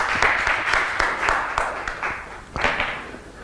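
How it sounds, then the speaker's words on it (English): A church congregation claps together in a steady, lively round of applause that sounds full and close, with a voice rising briefly underneath. "Give the Lord a clap offering."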